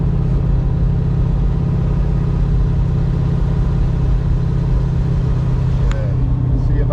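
A 1966 Ford truck V8 idles steadily after a cold start with the choke still out, a loud, close, continuous low rumble with an even beat and no voices over it.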